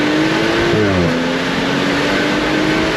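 A Stage 2+ BMW M235i pulls hard in first gear, its engine note climbing steeply, then dropping briefly at a shift-like break before droning on loud and close inside the cabin.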